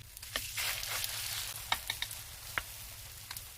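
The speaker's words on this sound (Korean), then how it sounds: "팬에 기름을 두르고 중불에서 달군 뒤 반죽을 떠서 넣고" Shrimp and chive pancake batter spooned into a hot oiled pan over medium heat, giving a bright steady sizzle with small crackling pops and scrapes, close and alone.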